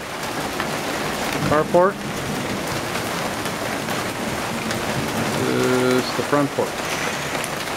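Steady rain falls around the front porch of a house with a carport, a constant wash of noise lasting throughout while a person talks over it.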